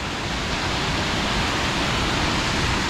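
Waterfall at Zacalapa in Chiapas, a close, loud, continuous roar of cascading water, broad and unbroken throughout with no voices.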